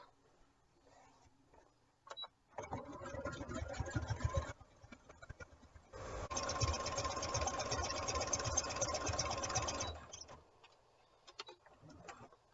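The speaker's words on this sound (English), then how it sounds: "for this front piece, we're also just going to take and do a top stitch" A sewing machine top-stitches the front piece of a raglan tee, running in two close, loud bursts of rapid mechanical whirring and ticking, the second about four seconds long, with quiet pauses between.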